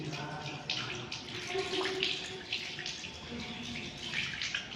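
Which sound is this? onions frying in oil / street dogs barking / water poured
water poured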